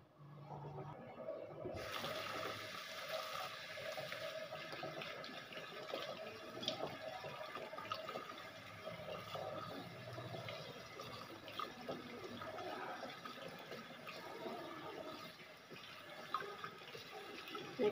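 Tap water runs steadily into a sink while spinach leaves are rubbed clean of sand, a soft continuous splashing rush close by with no talking.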